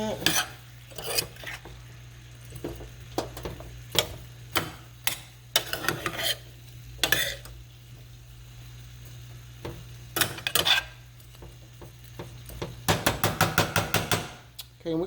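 Broccoli and spinach are stirred in a pan, with a series of sharp utensil scrapes and clinks against the metal spaced irregularly over a low steady hum, ending in a quick rapid burst of clatter; no talking.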